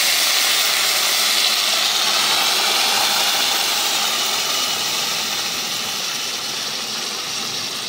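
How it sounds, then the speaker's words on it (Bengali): Water poured into a pan of already-fried potatoes sets off a loud, steady hiss and sizzle that fills the whole stretch, easing slightly toward the end, with no talking. "জল ঢেলে দিলাম।"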